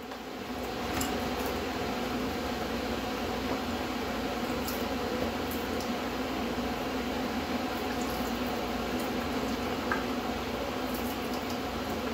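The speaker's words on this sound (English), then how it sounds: "I always sanitize it with hot boiling water before I put my curds into it." Hot boiling water pours steadily into a cheese press for sanitizing, a continuous soft liquid rush with faint splashes and drips, quiet and unbroken with no talk.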